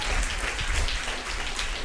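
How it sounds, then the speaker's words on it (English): A school audience claps warmly for an events coordinator, a dense, steady burst of applause filling the room at close range. "A big round of applause to our"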